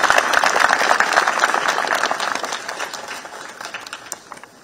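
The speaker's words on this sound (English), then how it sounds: "let's once again give a round of applause to the outgoing commander" Crowd at a Kenya Army change-of-command ceremony applauding the outgoing army commander outdoors, loud dense clapping that gradually thins and fades toward the end.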